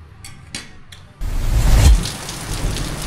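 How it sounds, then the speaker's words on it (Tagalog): Heavy rain with large drops suddenly starts pouring down while the sun shines, a loud dense hiss with a low rumble swelling after a quieter start with a few knocks. "Malakas yung ulan,"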